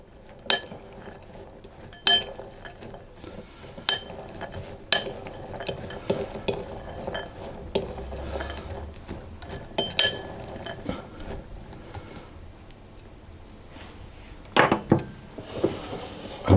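Sultanas and raisins being stirred with a tablespoon of flour in a bowl, with sharp metallic clinks of the spoon against the bowl at irregular intervals and soft rustling in between, close and clear.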